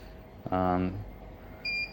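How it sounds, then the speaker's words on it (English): A Sungzu 1000W portable power unit with a 273Ah battery sounds its low-battery alarm, a single loud half-second tonal beep followed by a shorter, higher electronic tone. "I would consider it to be dead if it's sounding an alarm."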